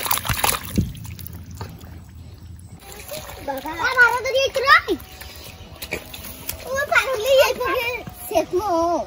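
Water is flung out by hand and splashes down while fish are caught in a rural village. Wet splatters and sloshes come in bursts under near, steady talk and children's voices.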